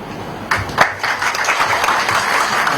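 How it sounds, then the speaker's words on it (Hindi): An audience at an honoring ceremony in Jaipur for a Mand singer claps loudly, starting abruptly and continuing as dense, sustained applause. "मैं आप लोगों से गुजारिश करूंगा सम्मान समारोह के दौरान लगातार आपकी तालियां बजती रहें"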